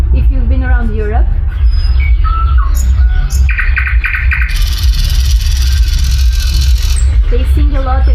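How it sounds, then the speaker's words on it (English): A recorded nightingale sings, played back at a festival talk: a run of sharp chirps, whistled notes and a dense, rapid trilling burst in the middle, loud over a low hum, with someone speaking before and after. "This is a nightingale."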